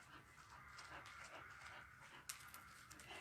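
A dog pants quietly in a room during a yin yoga session, giving soft, rapid, rhythmic breaths that stay faint and close with a small sharp sound near the end.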